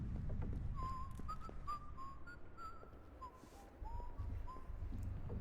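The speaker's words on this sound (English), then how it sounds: "nothing like the sound of like someone whistling to just like freak you out" Someone whistles a slow, wavering tune inside a dark, tense level of Tom Clancy's Splinter Cell, the notes faint and somewhat distant over a low background rumble, with no talking.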